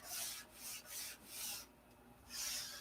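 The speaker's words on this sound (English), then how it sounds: "I'm sanding out now the scratches and dents I just put in it" Soft rasping strokes of sandpaper on molded balsa wood, smoothing out scratches and dents, several back-and-forth passes, faint and close with no talking.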